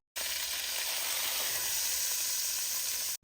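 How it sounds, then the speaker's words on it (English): Beef seared in a hot pan over a high flame gives a steady, loud, continuous sizzle that runs unbroken from start to finish with no voices. "We're going to flip our meat on over, allow it to sear up on the other side as well."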